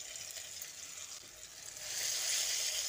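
Beetroot dhoka pieces frying in hot oil, a faint steady sizzle that swells louder partway through and then holds.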